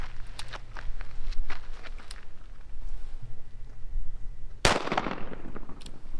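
A single sharp revolver shot rings out against a body armor plate, a loud close crack with a ringing tail, after a stretch of quiet outdoor ambience with scattered footsteps and handling noises.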